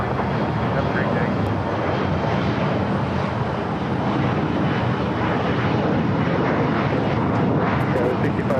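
A Boeing 777 freighter flies over LAX with a loud, steady roar of jet engines that holds evenly throughout, with wind buffeting the microphone.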